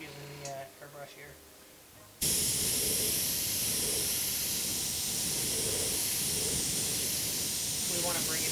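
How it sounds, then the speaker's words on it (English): Airbrush hissing paint in a loud, steady continuous spray that starts abruptly and runs unbroken for several seconds, following a short stretch of quiet speech, while painting a dark Ghostbusters Slimer figure. "just get a little air using the airbrush here"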